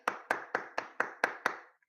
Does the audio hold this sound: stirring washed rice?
no